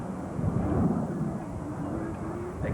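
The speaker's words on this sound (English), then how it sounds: "Back on the throttle now to slow the aircraft down to its landing speed." F/A-18 jet engine throttling back to slow toward landing speed, a broad, steady low roar heard from a distance that holds its level throughout with no voices.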